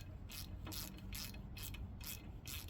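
Ratchet turning a 14mm bolt to press off a Nissan Xterra rear brake drum, about six evenly spaced crisp clicking bursts, close up but quiet, with no talking.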